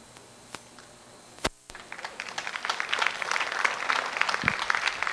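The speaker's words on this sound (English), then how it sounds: "give these juniors a big round of applause" Applause builds at a dairy cattle show, starting with a few scattered claps, then swelling into steady crowd clapping that continues to the end, moderately distant.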